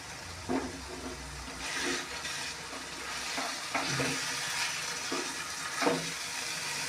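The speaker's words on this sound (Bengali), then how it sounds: "এবার এর মধ্যে একটু ঘি দিয়ে একটু নাড়াচাড়া করে নামিয়ে নেব" A spoon stirs fish-head muri ghonto made with katla fish heads and ghee in a pan, making repeated scraping strokes over a steady soft sizzle, close and fairly quiet.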